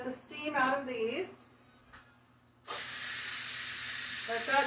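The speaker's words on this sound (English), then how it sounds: "So we're going to let the steam out of these." Steam rushes out of a pot of cooked potatoes as the lid is vented, a steady loud hiss that starts abruptly and holds for about two seconds after someone speaks briefly.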